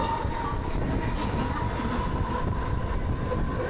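A train runs on the Panvel harbour line with a continuous rumbling roar and rail noise, steady and close for several seconds, with a faint high tone above the rumble.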